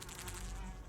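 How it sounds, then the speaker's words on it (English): Bees buzzing around fresh flowers in the hidden-object adventure game Lady Mabel Mysteries: Death On Board, a steady, close insect drone that continues without a break and with no voices. "The flowers are so fresh that no wonder they're attracting bees."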